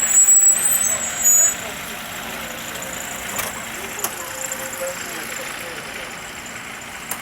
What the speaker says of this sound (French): Ah, là, un minibus.